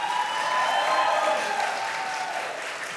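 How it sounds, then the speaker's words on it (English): An audience at a youth entrepreneurship challenge applauding the MC, steady moderate clapping that fills the room throughout and fades gently, with a faint hum running beneath. "Can we give a big round of applause to Autumn"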